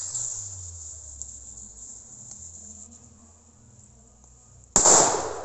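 Silver Cracker firecracker by Enigma, a single sharp, loud bang near the end after a stretch of crickets chirping and a low hum.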